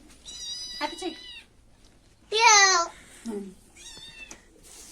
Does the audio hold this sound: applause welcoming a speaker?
no